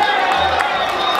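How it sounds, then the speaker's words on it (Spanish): A crowd claps and cheers in a short burst, with voices mixed into the noise, at a Nicaraguan church fair. "Un fuerte aplauso para Devencio."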